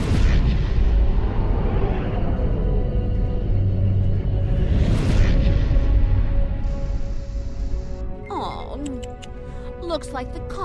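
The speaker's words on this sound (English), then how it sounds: "Tactical, target the lead cruiser and fire at will." Starship weapons in Star Trek Online blasting at a cruiser, deep rumbling booms and sustained roaring bursts that swell and fade, later giving way to sharper electronic zaps and clicks.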